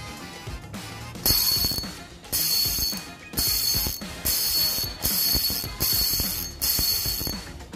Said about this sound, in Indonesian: kita bagi dengar bunyi drag ya